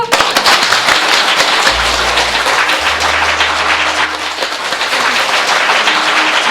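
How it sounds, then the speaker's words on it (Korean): A crowd at a founding party for a counselling centre bursts into loud, crackling applause that continues unbroken. Deep rumbling thumps sound under the clapping partway through. "박수!"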